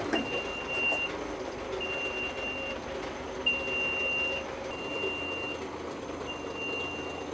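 A Belarus-82.3 tractor's reversing alarm beeps in a slow, regular series of high tones over the rumble of the running tractor.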